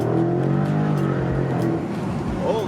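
A 2020 Dodge Challenger 392 Scat Pack T/A V8 heard from inside as it downshifts and accelerates hard, a loud, steady, rising exhaust roar filling the whole clip, no talking.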